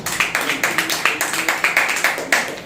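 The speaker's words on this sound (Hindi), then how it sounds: "उनके लिए तालियां बजा सकते हैं।" A church congregation at a Wednesday service clapping in a steady rhythmic beat, a dozen or more sharp, even claps in quick succession, close and fairly loud.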